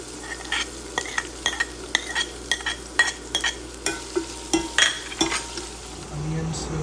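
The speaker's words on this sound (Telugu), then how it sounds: "ఆనియన్స్ 2 minutes ఫ్రై చేసుకోండి కలుపుకుంటూ." Chopped onions fry in a pan while a utensil stirs them in regular scraping strokes, a soft sizzle running underneath the repeated clinks and scrapes as Andhra-style rasam is cooked.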